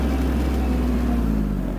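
A small Japanese Hinomoto NX-201 mini tractor engine, warmed up, idles steadily nearby, a constant low rumble with no change in pace throughout.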